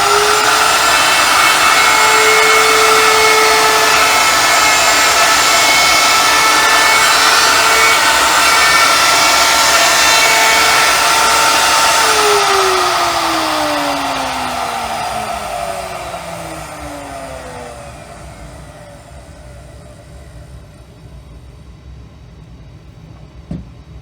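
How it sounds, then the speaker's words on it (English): Router cutting the inside of a wooden folding wine table's handle, a loud steady whine that holds for several seconds, then winds down as the motor is switched off and the bit spins to a stop. "Turn it off and wait for the router to stop before you pull it out."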